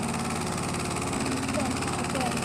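An engine idles steadily with a continuous low rumble and vibration, and voices talk faintly over it.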